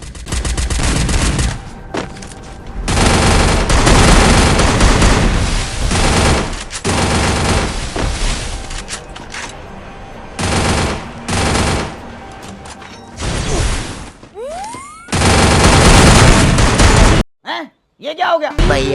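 Rapid bursts of automatic gunfire in a solo battle royale video game match, loud and dense in long stretches with brief pauses, a few sharp single shots near the end.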